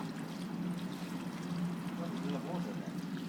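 Water poured from a bucket to fill a small test waterfall, a continuous splashing and trickling wash running steadily throughout, with voices murmuring underneath.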